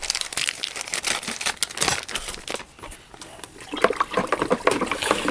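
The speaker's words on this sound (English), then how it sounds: "So we're going to go ahead and just add that dextrose." Dextrose sugar poured into water in a fermenter while making a sugar wash. A steady rush of granules pours into the liquid with crinkling bag noises, close up and fairly loud, with no talking.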